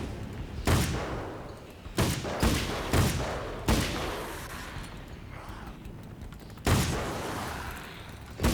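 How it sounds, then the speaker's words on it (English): Rifle shots in Alan Wake's American Nightmare, heavy booming reports spaced about a second apart with rumbling decay between them, loud and close. "This rifle doesn't do that much damage"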